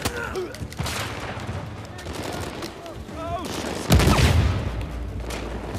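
Heavy automatic fire from a minigun in the video game Uncharted 4, rattling bursts with distant shots and a loud boom near the end, with some voice mixed in.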